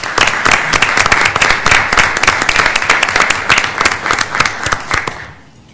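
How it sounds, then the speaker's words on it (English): A crowd at an informational meeting claps steadily and loudly for several seconds, the applause then fading away at the end. "we owe them a round of applause"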